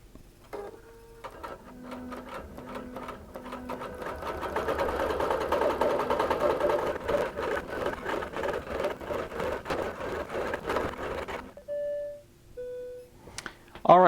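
A QBOT V3 computerized quilting machine stitches a crosshatch design with a steady mechanical hum and rapid needle ticking that lasts about ten seconds. Electronic beeps sound just before the run starts and again after it stops.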